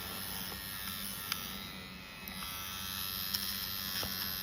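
Electric nose hair trimmer buzzing steadily at close range, a continuous high whine with a few faint clicks and no talking.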